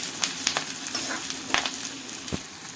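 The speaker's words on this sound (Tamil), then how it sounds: "வெங்காயம் கருவேப்பிலை நல்லா வதங்கட்டும்" Onions and curry leaves sizzle steadily in a hot pan for a village-style fish curry, with a continuous crackling fry and occasional stirring scrapes, close and fairly loud.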